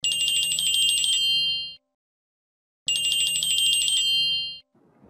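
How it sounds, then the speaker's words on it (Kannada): Telephone ringing in a Kannada TV serial scene, two long bursts of a bright, loud electronic ring separated by a second of silence, followed by faint sound. "ಅಳಿಯಂದ್ರು ಫೋನ್ ಮಾಡಿದ್ದಾರೆ."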